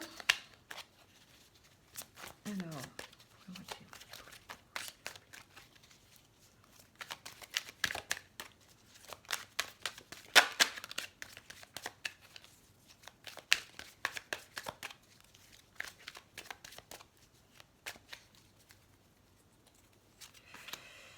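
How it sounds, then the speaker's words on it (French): Tarot cards are reshuffled by hand, making faint, close riffling, soft flicks and light taps in irregular clusters, with a few brief scrapes as the deck is handled. "Alors on va remélanger un peu et tirer peut-être 3 cartes"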